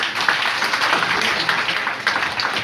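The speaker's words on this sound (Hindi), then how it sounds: "और फिर से मैं नारी शक्ति के लिए एक बार फिर से चाहूंगा जोरदार तालियां बजाने के लिए" A crowd at a lecture hall gives loud, sustained applause in honour of women's empowerment, many hands clapping in a thick, continuous wash close by.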